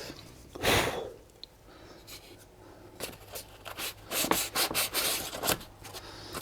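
A guitar body is sanded by hand with 320 grit sandpaper, a close, soft rasping of irregular strokes that grows busier and more rhythmic toward the end.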